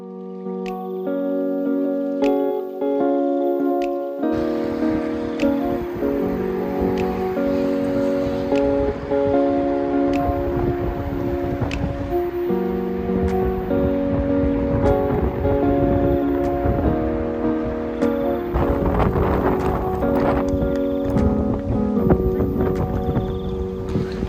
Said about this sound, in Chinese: 海浪很大，海浪滔滔。